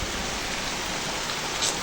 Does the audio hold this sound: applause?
no